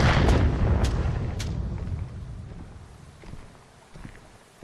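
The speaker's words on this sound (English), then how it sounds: "throwing grenades where they think I might be" Grenade explosions in a live-streamed shooter video game: a few heavy booms near the start, each trailing into a rumbling decay, then fainter distant thuds as the sound fades.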